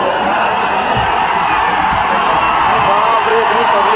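Large crowd at a Khesari Lal stage show in Hyderabad roaring, clapping and cheering continuously, loud and dense throughout, with yells rising out of the noise.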